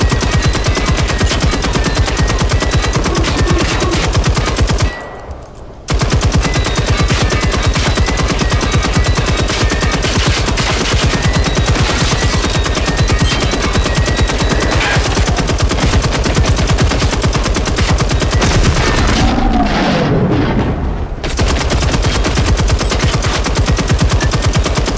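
Sustained bursts of automatic gunfire from the video game Generation Zero, loud and dense, cutting out briefly twice before resuming in rapid rattling volleys.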